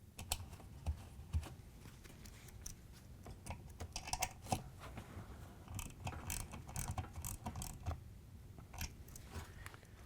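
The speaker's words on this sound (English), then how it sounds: "We're going to use the same 3/8 inch socket to tighten it down." A 3/8 inch socket turns a grounding screw down on a GE dishwasher pump and motor assembly, giving a run of faint, quick ratcheting clicks and small metallic taps with no talk.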